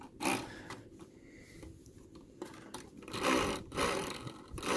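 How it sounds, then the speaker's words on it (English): A nearly new Hoover PowerDrive Swivel XL upright vacuum rolls across a floor, its noisy wheels giving a rough, rattling whir under the steady roar of the running machine. "You can tell the wheels are a bit noisy."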